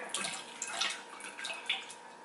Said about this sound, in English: I like to just get a knife and cut on the top first and drain the water